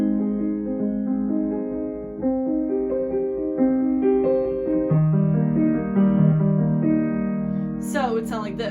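Piano playing arpeggiated chords from a song, a steady run of notes cycling through low and mid registers, clear and close with a quick high flourish at the end.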